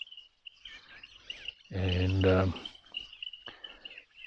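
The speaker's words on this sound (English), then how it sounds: "just the frogs and the bird sounds out there" Birds chirp and call through an outdoor evening scene with frogs, a steady high twittering running across the whole stretch, briefly overlapped by someone speaking in the middle.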